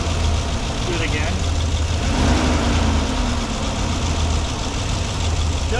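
A van engine with a persistent tapping fault revs lightly in steady, continuous bursts, a loud broadband rumble with rapid ticking throughout, while people talk nearby.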